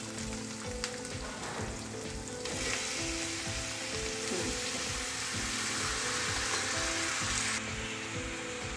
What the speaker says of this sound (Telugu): దోసకాయ కట్ చేసి పెట్టుకున్నాం కదా, అవి వేసుకుందాము. ఆనియన్ వేగింది.